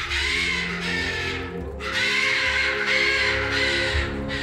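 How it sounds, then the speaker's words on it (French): A parrot gives harsh, raspy calls in long repeated screeches, loud and close, with brief pauses between them and no talking. "c'est un beau perroquet, c'est un beau perroquet."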